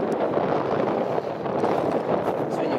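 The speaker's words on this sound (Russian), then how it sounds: "Сегодня ветер у нас такой прохладненький." Strong wind buffets and roars across the microphone in a continuous, loud rush with slight gusting.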